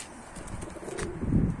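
Pigeons coo softly outdoors, a few low throaty calls rising toward the end over faint background noise.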